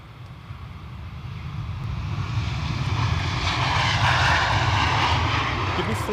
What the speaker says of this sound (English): There's some other plane arriving from somewhere,